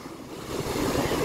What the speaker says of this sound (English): you guys like the waves?